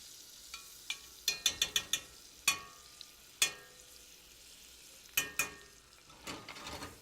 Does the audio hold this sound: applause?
no